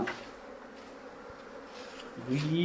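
Flies buzz close by at a new house, a faint, steady drone that rises into a louder, nearer whine toward the end.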